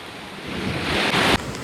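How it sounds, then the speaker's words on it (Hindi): Flooded river at Sahastradhara, Dehradun, rushing with muddy water: a loud, broad roar that builds steadily before cutting off abruptly, with no voices. "देखते ही देखते जो नदी है वो कितनी ज्यादा विकराल रूप यहाँ पे धारण कर लिया है"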